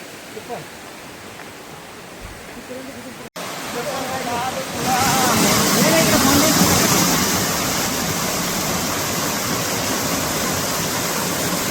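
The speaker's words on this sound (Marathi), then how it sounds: "वरती धबधबा आहे खाली बघा असं पाणी येत आहे" A waterfall in a dense forest at Bhandardara roars as a constant broad rush of falling water, quieter at first and then swelling louder and closer for the rest.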